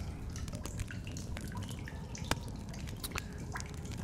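Water drips inside a cave in the video game The Solus Project, with scattered, irregular plinks over a steady low rumble of ambience.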